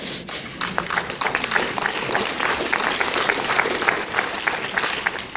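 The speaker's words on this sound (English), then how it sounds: "I'm getting some clapping over here." A marketing conference audience claps steadily throughout, a close, fairly loud wash of many hands with individual claps standing out.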